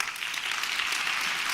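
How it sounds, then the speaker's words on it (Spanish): Brief burst of audience applause after a talk on chess in prisons, a dense steady patter of many hands clapping without pause. "ese aplauso"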